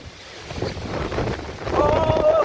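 Strong wind gusting with heavy rain during Typhoon Kristine in 2024 in flooded streets of Ragay, Philippines, a loud blustery roar with wind buffeting the microphone, rising toward the end as a faint tonal whine appears.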